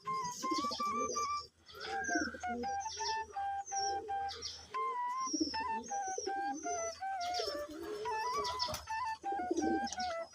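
Pigeons coo and call at a water dish while a large male drives the others away, making steady close coos with bright chirps and whistly notes over a soft rustling background, almost without pause.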